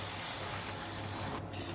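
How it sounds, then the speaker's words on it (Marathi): Hot water pours continuously into a pot of sautéed rice for a couple of seconds, a steady rushing splash at close range with no talking. "त्यामध्ये आपण 3 वाट्या गरम पाणी ओतणार आहे"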